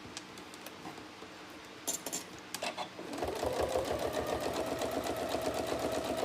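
A sewing machine stitches a trapunto cushion, first quietly with a few clicks, then settling into a steady, moderately loud rhythmic running hum near the end, with no one speaking.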